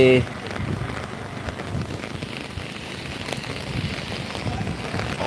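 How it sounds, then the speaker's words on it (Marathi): Heavy rain pours down at a bus stand, a dense, steady hiss that holds loud and unbroken from start to finish. "बघा पाऊस"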